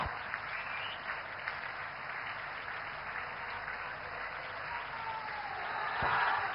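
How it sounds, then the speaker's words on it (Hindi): Steady, dense applause from a large crowd at a rail service launch event. The clapping keeps up continuously at even strength and swells slightly near the end. "तालियां जोरदार हों।"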